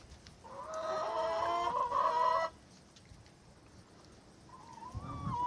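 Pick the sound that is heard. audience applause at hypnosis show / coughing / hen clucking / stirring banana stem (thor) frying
hen clucking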